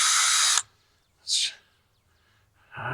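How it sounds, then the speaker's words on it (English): A corded power drill bores into a lawn mower engine part, with two short loud whirring bursts separated by pauses and a third burst starting at the end, all close by. "I may have to get my corded drill."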